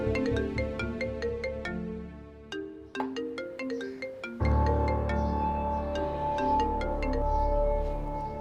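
Mobile phone ringtone for an incoming call, a bright melodic chime tune that repeats and then swells fuller and louder partway through, playing alone without voices.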